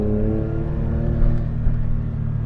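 A Daihatsu Handivan L700 with a 989cc engine climbs Mount Wellington, its small motor droning steadily at a low, even pitch throughout with a continuous rumble and no talk.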